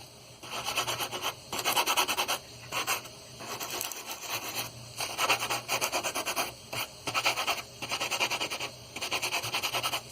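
A sanding sponge rubs over a plastic model in repeated back-and-forth passes, a soft, close scratchy hiss that comes in bursts with short pauses between strokes and no speech.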